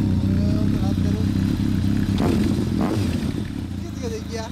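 A 2009 Kawasaki ZRX1200 DAEG fitted with a MotoGear aftermarket exhaust runs close by with a steady low engine drone, a few brief clattering blips mid-clip, while people chat over it.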